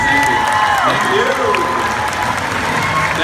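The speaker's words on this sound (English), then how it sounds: "can I have a big applause for Daniel Gillies?" Applause for Daniel Gillies at a Q&A event in Utrecht, a loud, continuous crowd clapping with some cheering, sustained for over three seconds while a voice briefly speaks over it.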